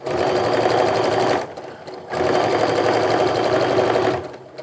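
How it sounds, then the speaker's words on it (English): Sewing machine stitching fabric quilt pieces together, two loud steady runs of rapid motor hum and needle chatter split by a short pause, close and alone with no talking. "and then I'm ready to sew."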